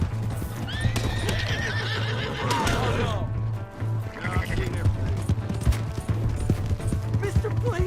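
In the video game Red Dead Redemption 2, a horse whinnies loudly over steady clip-clopping hooves, then keeps trotting at a quick rhythm, with a low droning hum beneath.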